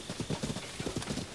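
Horse hooves clip-clop at a steady trotting rhythm in Zelda: Tears of the Kingdom, a close, repeated patter of hoofbeats.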